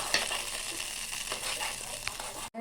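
Moong dal fries in ghee for Ashoka halwa, a continuous close crackling sizzle with light stirring scrapes, cutting off abruptly at the end.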